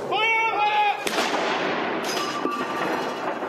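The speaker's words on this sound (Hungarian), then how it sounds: "Helyi idő szerint pontban délben dördültek el az első lövések a Temze felé néző ágyukból a londoni Towerben." Cannon gun salute fired from the guns facing the Thames at the Tower of London, a loud booming blast and rumble with a second report, heard under a news narrator's voice.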